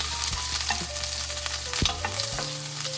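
Chopped onions sauté in a hot pan, a close, steady sizzle and crackle that holds for the whole stretch with a faint shift partway through and no voices.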